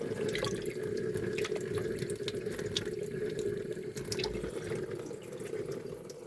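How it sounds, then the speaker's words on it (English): Water running from a tap into a cat steam brush's reservoir, a steady close splashing hiss with small drips and gurgles throughout, no voices. "which you fill up with water"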